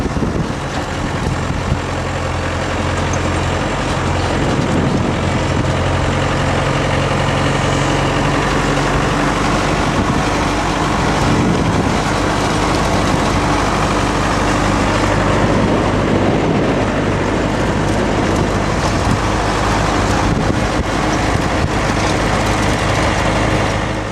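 A vehicle engine runs steadily through a ride toward Sossusvlei in Namibia, a continuous low rumble with road and rattle noise that stays loud and even throughout, with no talk.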